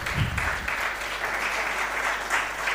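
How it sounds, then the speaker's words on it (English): Students at an educational mentoring program in Mumbai clap together in a dense, steady round of applause that fills the room. "Students, give him a big round of applause."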